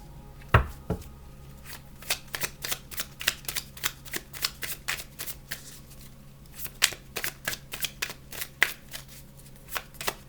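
A new deck of tarot cards is shuffled by hand, producing repeated crisp riffling and snapping bursts in a loose irregular rhythm, close and fairly quiet.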